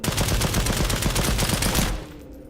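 Rapid automatic fire from the Wingman gun in the Sulfur video game, a close, loud, evenly spaced stream of about twenty shots lasting nearly two seconds before stopping abruptly into a quiet tail.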